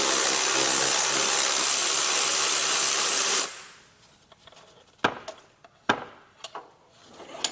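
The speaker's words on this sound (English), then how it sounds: "you can spin them off with an electric ratchet like this" A Ryobi electric ratchet with an extended neck spins bolts off a GM 1.4L direct-injected turbo, a loud continuous whir for a few seconds, then quiet with scattered metallic clicks and knocks of handling.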